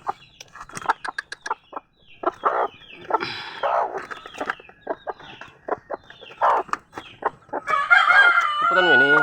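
A hen with two chicks clucks in short, uneven bursts close by, with a rooster crowing loudly near the end and a person speaking now and then.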